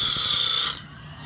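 Homemade bandsaw blade sharpener running outdoors, a loud steady mechanical grind with a ratcheting clatter that cuts off abruptly partway through, leaving quiet background.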